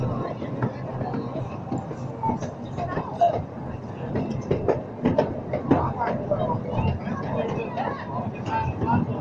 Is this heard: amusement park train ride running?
yes